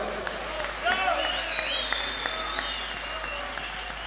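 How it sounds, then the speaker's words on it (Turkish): Open-air Turkish concert crowd applauds after a musician is introduced, a broad sustained wash of clapping with faint whistles and cheers rising briefly, heard somewhat distant and fairly even in level. "Alkışlayalım."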